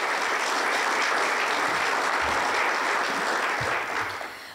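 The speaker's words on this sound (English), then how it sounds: "So let's give them a round of applause one more time." A luncheon audience at a chamber of commerce holiday giving event gives a sustained round of applause, loud dense clapping that fades out at the end.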